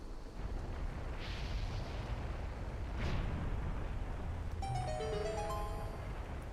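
A bomb goes off in a Zelda randomizer video game with a muffled, rumbling boom that swells briefly midway, followed by a bright chiming jingle as the noise dies.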